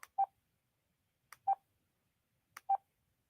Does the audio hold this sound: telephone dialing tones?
yes